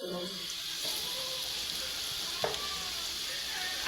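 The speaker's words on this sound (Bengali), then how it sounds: "এই রেসিপির জন্য প্রথমত আমরা সর্ষের তেলের মধ্যে এই সাইজের আলুগুলো কেটে নেবেন আর একটু হলুদ আর নুন দিয়ে ভাজতে শুরু করে দেবেন।" Cut potatoes fry in mustard oil with turmeric and salt, making a loud, continuous close-up sizzle with a brief utensil knock partway through.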